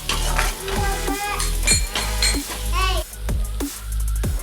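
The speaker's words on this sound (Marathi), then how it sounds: "आणि छान असे परतवून घेणार आहोत" Vegetable pulao masala with garam masala is sautéed in a pan: continuous sizzling with rhythmic spoon scrapes and metal clinks, under tonal background sound and a voice.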